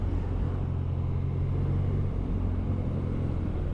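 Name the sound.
BMW R 12 motorcycle being ridden on the road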